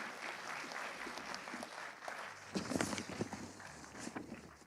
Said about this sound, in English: Let's extend a warm round of applause to welcome them.